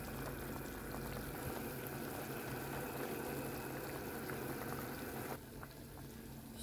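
A pot of borscht at a full boil, a steady dense bubbling and hiss that holds even and close throughout, easing slightly toward the end.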